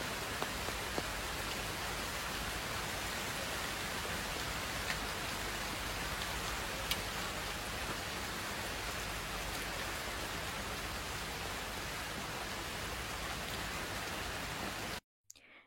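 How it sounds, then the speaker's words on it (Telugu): Heavy rain falls in Goa, a dense, constant roar of downpour with no gaps that fills the scene evenly and cuts off abruptly at the very end. "అండ్ ఫుల్ వర్షం పడింది. వర్షం ఎలా ఉందో చూడండి."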